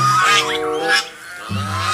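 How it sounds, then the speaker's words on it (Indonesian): A white goose honks loudly and close by, with two nasal calls separated by a short gap, and no voices in between. "ternyata ini hewan angsa."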